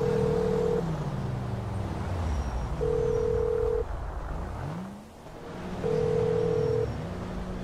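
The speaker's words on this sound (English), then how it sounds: "Let's dial them." Phone dialing in Grand Theft Auto V: three steady single-pitch tones about a second each, with pauses between them, sounding over a continuous car engine drone that dips briefly near the end.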